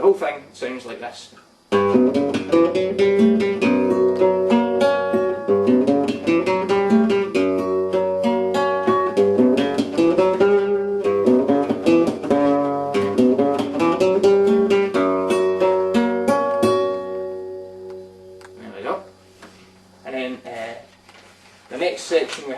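Flamenco guitar playing a soleares llamada and first falseta, a dense run of strummed rasgueado chords and picked melodic lines that starts after a brief pause and carries on steadily for about twenty seconds, close and alone before thinning toward the end.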